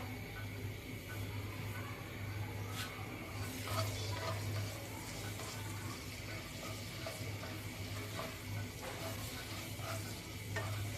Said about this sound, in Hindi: लहसुन अदरक को हम 3 मिनट के लिए भून लेंगे